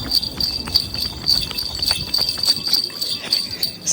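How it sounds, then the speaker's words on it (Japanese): Many small bells sewn onto a Nebuta festival dancer's costume jingle in a fast, rhythmic pattern with each running stride, bright and close, over crowd and street noise. "鈴だらけで私が走るとめちゃめちゃうるさいのよ。"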